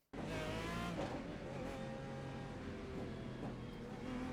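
GT race cars idling and revving together before a rolling start at the Nordschleife in a racing video game, a dense, steady engine drone with layered harmonic tones that starts abruptly and holds loud throughout.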